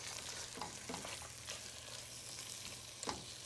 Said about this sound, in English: we're gonna go in with the garlic and the broad thyme and give it a mix